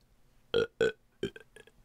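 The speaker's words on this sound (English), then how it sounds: "It was a cheesy, eggy, buttery, meaty, trifly burp" A narrator's voice acts out a baby's big burp in a children's audiobook: several loud, close, croaking belch bursts in quick succession with short gaps between them.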